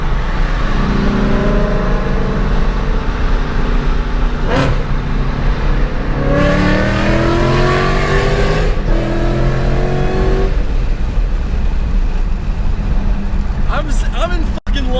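A Whipple 2.9 liter supercharged California Special car revs loudly nearby, engine pitch climbing and falling through several pulls, with people talking over it.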